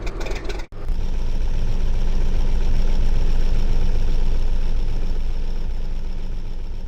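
A '69 Dodge Charger R/T in the L.A. Rush racing game idles with a steady, loud, low engine rumble after a brief cutoff near the start, holding constant throughout.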